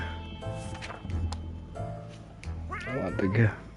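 A cat meows in the survival video game 60 Seconds, with several short mewing calls ending in a louder drawn-out meow, heard over someone talking.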